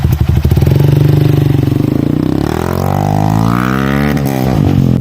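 A motorcycle taxi engine runs loudly up close, chugging steadily before revving and rising in pitch.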